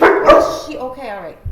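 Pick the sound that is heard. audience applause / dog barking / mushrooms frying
dog barking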